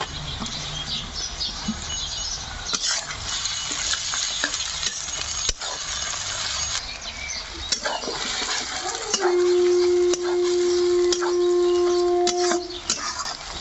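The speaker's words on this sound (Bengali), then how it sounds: "আদা রসুনটা একটু ভেজে নিয়েছি" Ginger garlic paste fries and is stirred in a pan for chicken biryani, a continuous loud sizzle with scraping spatula strokes and a sustained tonal whine near the end; no talk.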